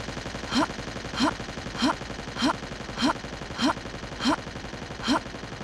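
Steady machine-gun fire in the game Trespasser, a regular staccato of sharp shots roughly every half second, loud and close, with no talk over it.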